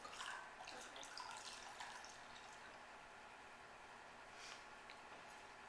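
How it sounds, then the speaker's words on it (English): Very hot water is poured into molasses for a Civil War-era cooking recipe, a faint steady trickling pour with soft splashes, quiet and alone throughout. "I'm taking 1 cup of very hot water and pouring it in to the"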